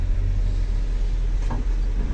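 Heavy road traffic crawls past on a Manila road where a trench has been dug in the middle of the street, with a dense, continuous low engine rumble and a brief passing whoosh from a nearby vehicle.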